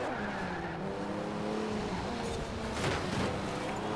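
Roughly 450-horsepower car accelerating in Forza Horizon 4, an engine tone climbing through gears with tyre noise and a short burst of skidding or scraping near the end, loud and continuous, no speech.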